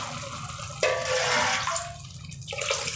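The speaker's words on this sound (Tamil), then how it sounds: "இப்போ நான் இதுக்கு எவ்வளோ தண்ணி வேணுமோ அவ்வளோ நான் அளந்து போட போகிறேன்" Measured water pours into a pot of tomato rice in a close, steady splashing stream, with a short break and a change in tone as each portion goes in.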